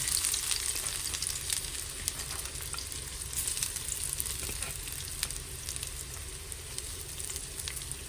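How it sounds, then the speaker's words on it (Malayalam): Sliced big onions fry in a hot pan with a steady, close, even sizzle that runs unbroken from start to finish. "ചട്ടി ചൂടായി വന്നിട്ടുണ്ട് അതിലേക്ക് വലിയുള്ളി ഇട്ട് കൊടുക്കാം"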